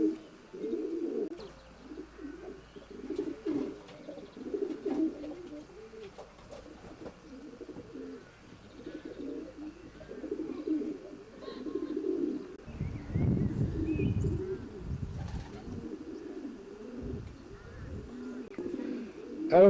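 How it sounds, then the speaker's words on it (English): Racing pigeons in a loft coo in repeated low, throaty rolls, fairly close and steady, with a louder burst of cooing partway through. "Oh, it's a quality pigeon, isn't he?"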